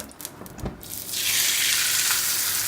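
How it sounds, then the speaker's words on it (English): Lightly salted ribeye steak searing in a hot pan, a loud steady sizzle that swells up after a few soft clinks and keeps hissing evenly. "So the steak now has just been searing on one side for about a minute and a half"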